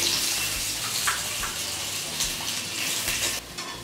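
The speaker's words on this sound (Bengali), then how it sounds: "মাছ ভাজা তেলের মধ্যে এবার আমি আলুর টুকরোগুলো দিয়ে ভেজে নেব" Potato pieces fry in oil already used for frying fish, giving a steady, close hiss with faint crackles that runs unbroken throughout.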